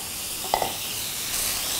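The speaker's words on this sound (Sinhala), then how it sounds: "ඒක තැම්බෙන තෙක් අපි පොඩ්ඩක් හැඳි ගහමු." Raw seafood fries in a pan for Thai pineapple fried rice, with a soft, constant sizzle. A utensil gives a couple of quick scraping strokes partway through.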